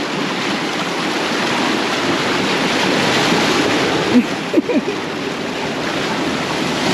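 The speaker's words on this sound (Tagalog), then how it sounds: "Yung alon eh." Ocean surf washes steadily onto a shore where fresh oysters are being grilled, a constant loud rush of breaking water with a few brief knocks near the end.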